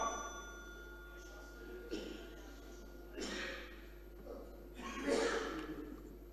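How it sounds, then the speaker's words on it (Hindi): A bell rung in the Delhi Assembly chamber to signal that a member's speaking time is up, heard as a few brief, moderately faint dings spread over the clip with a chamber voice present. "आपने घंटी बजाई थी।"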